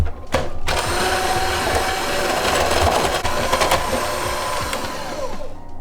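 An electric mixer whirs steadily as it beats butter in a bowl for gluten-free carrot cake whoopie pies. The motor hum continues close and loud for the whole stretch, with slight rattles against the bowl and no voices.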